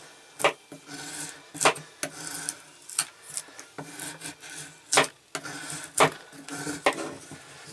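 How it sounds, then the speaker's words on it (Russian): A Spyderco Resilience knife is sharpened with repeated rasping strokes, each one a short scraping rub with quiet gaps between, close and moderately loud. "попробуем мы ее просто взять и заточить"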